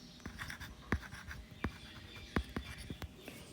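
Pen or chalk scratching out a calculus equation by hand, with short strokes and taps in an uneven rhythm, close and alone without speech.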